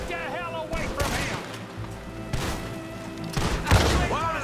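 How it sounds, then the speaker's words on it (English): Several loud shotgun blasts in Red Dead Redemption 2 during a gunfight, sharp booming shots spaced a second or so apart, mixed with game dialogue and other noise. "Dá tiro de shotgun dessa distância mesmo."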